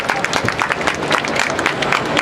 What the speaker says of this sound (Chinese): 请大家掌声欢迎 Hide。